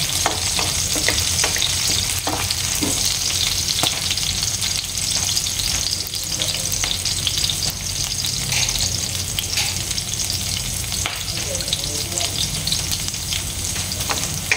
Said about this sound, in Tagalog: So, igisa-gisa lang natin.